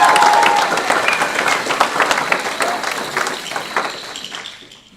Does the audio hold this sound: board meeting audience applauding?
yes